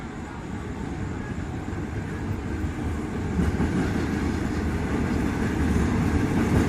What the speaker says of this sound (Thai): กำลังมีขบวนรถจะเข้าจอดนะครับ